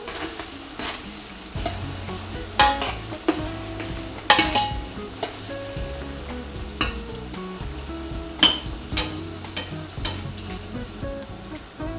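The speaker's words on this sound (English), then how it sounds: "you can see the onions are getting a lovely brown now" Onions browning in a pan for lamb pilau rice crackle with a lively, continuous sizzle, close up, punctuated by clinks and scrapes of stirring.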